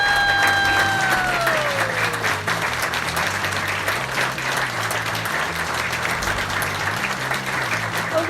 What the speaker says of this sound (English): I need a louder round of applause